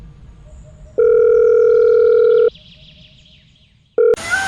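A telephone ringback tone plays as a call goes out to a watchman: one long, loud, steady tone lasting about a second and a half, a pause of near silence, then the start of the next tone before a noisy cutoff.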